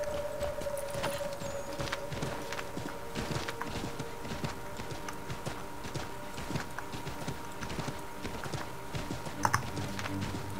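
Steady clopping of horse hooves in the video game Assassin's Creed III, moderately close, with light clicking and tapping alongside it.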